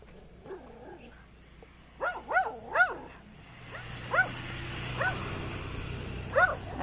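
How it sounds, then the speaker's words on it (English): Dogs yelp and bark in a few sharp bursts, with whining, rising cries in between, fairly close against a low background hum. "now we're going to get to be right by the barking dogs"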